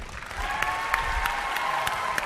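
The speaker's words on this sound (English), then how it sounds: "let's give a big round of applause" A conference audience gives a big round of applause for a presidential master coordinator: continuous crowd clapping at steady loudness with a few sharper individual claps standing out.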